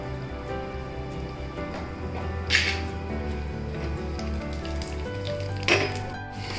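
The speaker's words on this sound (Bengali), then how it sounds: "ছোট্ট একটা ফ্রাইং প্যানে আমি এখন কাজু আর কিশমিশ ভেজে নিচ্ছি বিরিয়ানির জন্য।" Cashews and raisins fry for biryani in a small frying pan, giving a steady, close sizzle with a hissing, rain-like texture throughout and two brief louder bursts, presumably from stirring.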